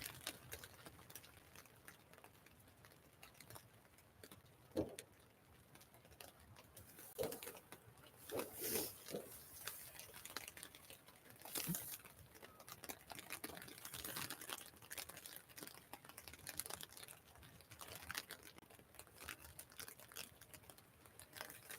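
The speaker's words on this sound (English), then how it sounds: "they sound like big blobs of rain, don't they?" Big drops of rain fall during Storm Ashley at Manchester Airport, pattering and splatting irregularly in scattered louder bursts against a steady wash of wind and rain noise.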